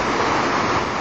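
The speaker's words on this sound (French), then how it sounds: "des chutes les plus impressionnantes d'Europe" A huge waterfall in Iceland, among the most impressive in Europe, roars as a dense, loud, continuous rush of broadband noise, close and unbroken.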